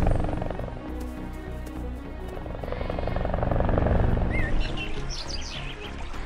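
A helicopter's steady rotor drone rumbles throughout, swelling slightly in the middle, while bright chirping bird-like tones flutter in near the end.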